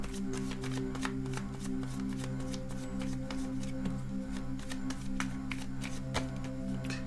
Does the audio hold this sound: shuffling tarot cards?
yes